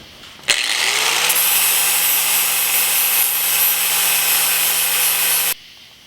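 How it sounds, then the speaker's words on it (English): An angle grinder grinds off welds in one continuous burst of about five seconds, spinning up sharply to a loud, steady high-pitched whine with gritty abrasive noise before cutting off abruptly. "I'm going to flatten those off, grind them off with the angle grinder"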